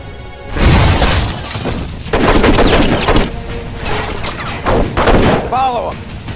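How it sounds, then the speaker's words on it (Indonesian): Gunfire rings out in a film shootout scene: loud bursts of shots and shattering impacts come in waves, with brief gaps between volleys and a whistling whine near the end. "Alhasil adegan tembak-menembak pun terjadi."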